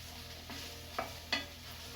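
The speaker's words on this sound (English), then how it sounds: "So I'll stir that around." Ground beef frying in a pot for hamburger bean soup, stirred with a utensil: a soft steady sizzle with a couple of sharper scraping knocks from the spoon, quiet and close with no speech.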